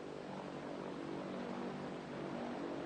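A propeller airliner's engines drone steadily in flight, heard from inside the cabin as a constant, loud, unbroken roar with no voices.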